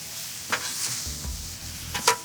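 Food sizzles and crackles in bacon fat on a Gather griddle grill during a stir fry, a steady hiss broken by a few sharp scraping spatula strokes near the start and end.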